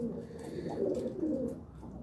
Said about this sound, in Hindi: ये दोनों मेन बड़े ब्रीडर कबूतर हैं मेरे।